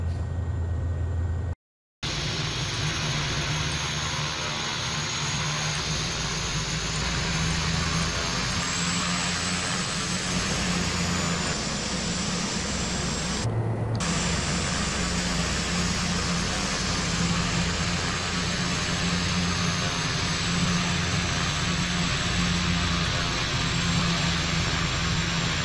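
Carenado Pilatus PC-12 turboprop taxiing in the Prepar3D/FSX flight simulator, a steady broadband turbine whine and hum droning evenly, with a sudden brief dropout near the start and a short dip midway.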